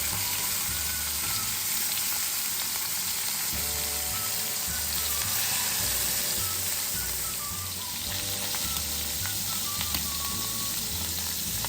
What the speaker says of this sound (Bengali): মাথাটাকে একদম সোনালি বাদামি আর মুচমুচে করে ভেজে নিতে হবে।